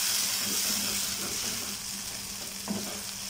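Tomatoes sauté in a pan for brinjal kara kuzhambu, a steady close hiss of frying with soft stirring scrapes and one brief clack of a utensil. No one speaks.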